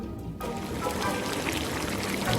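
Water pours and splashes in a short burst for a Hansel and Gretel children's story scene of a witch boiling water, a steady close gush lasting a couple of seconds.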